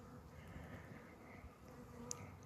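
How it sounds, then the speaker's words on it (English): Robber bees fly in and out of a beehive, a low continuous buzzing hum of many insects, steady and fairly faint throughout. "All these bees you see here now flying in and out are robber bees from somewhere."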